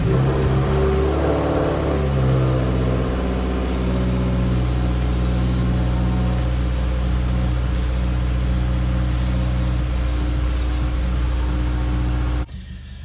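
A 2017 Subaru WRX with a newly installed Accessport tune and intake idles steadily after startup, a loud, continuous low engine drone with harmonic hum, close by, ending abruptly near the end.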